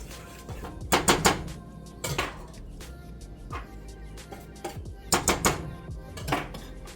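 Almond flour and other dry gluten-free bagel ingredients being mixed in a bowl, with clinking, scraping clusters of utensil-on-bowl contact in several bursts and quieter rustling stirs between them, close and alone without talk.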